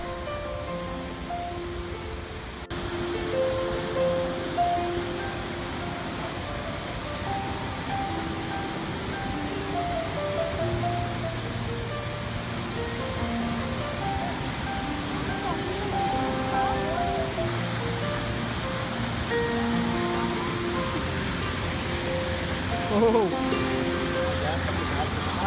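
Steady rushing water of Dharamattam waterfall near Narsipatnam, Visakhapatnam, India, roars continuously, with a voice talking and faint music over it.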